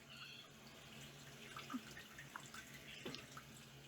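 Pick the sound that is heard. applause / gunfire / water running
water running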